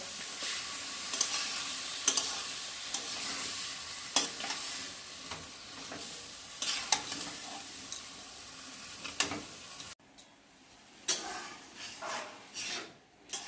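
Ingredients for Bengali dal chorchori fry lightly in a pan, with a soft ongoing sizzle broken by repeated scraping stirs of a spoon against the pan. The sizzle grows quieter in the last few seconds.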